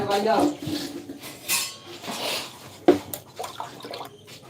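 A spatula and a metal plate are washed under running water, with splashing, clinks of utensils and a sharp clatter, while people talk nearby.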